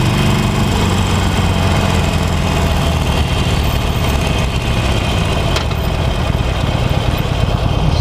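A 2018 Harley-Davidson Forty-Eight Special motorcycle engine rumbles loud and close after an aggressive downshift, holding a steady, throbbing idle-like run for the whole stretch with no talking.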